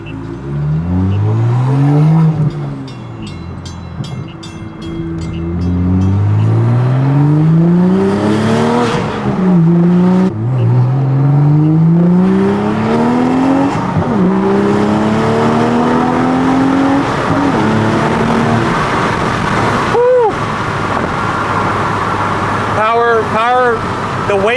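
A modded Toyota Supra A91-MT accelerates hard through several gears from inside the car, with a loud engine note rising repeatedly in pitch and dropping at each shift, then quick blips near the end, while a person talks over it.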